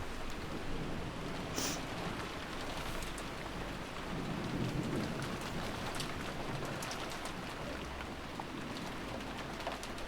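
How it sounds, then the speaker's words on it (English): Steady, heavy rainfall patters across surfaces without pause, with a faint low rumble of distant thunder and an occasional bird chirp. "The only voice that called after them was the sound of the rain."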